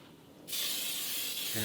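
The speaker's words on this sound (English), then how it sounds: "So now we spray in the pan" Cooking spray sprayed into a hot pan, a loud steady hiss that starts abruptly after a quiet moment and continues for over a second, with a brief low sound near the end.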